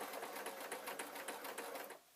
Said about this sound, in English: Now I'm going to sew along the top here.